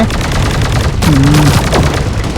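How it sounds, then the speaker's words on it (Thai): Rapid automatic bursts from an Uzi submachine gun in the game Sausage Man, a continuous rattle of shots filling the whole moment, with a voice briefly talking underneath. "เดี๋ยวเราลองอูซี่หน่อยนะ"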